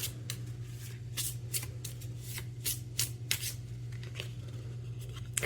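Tarot cards are shuffled and pulled by hand in a soft, close series of riffling swishes and slaps over a low steady hum.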